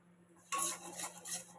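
Pan clatter and scraping as besan (gram flour) is fried and stirred with a bay leaf and dried red chilli, a sharp onset of busy metallic stirring noise after a quiet start, no talk.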